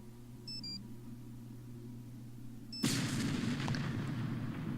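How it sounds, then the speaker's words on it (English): An explosion in the video game Nancy Drew: Shadow at the Water's Edge bursts in suddenly after a quiet hum with a few faint electronic beeps, then a loud rumbling roar sustains to the end. "Yeah, explosion."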